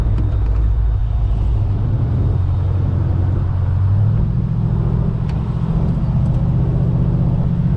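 A 1972 Chevelle convertible custom cruising in second gear at about half throttle, its engine a loud, steady low rumble that swells slightly midway and holds without a break.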